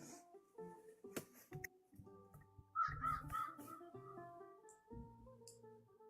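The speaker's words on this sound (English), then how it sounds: "Stop playing crow sounds." Recorded crow caws played back, a short run of three harsh, nasal calls in the middle, heard faintly over scattered indoor noises and thumps.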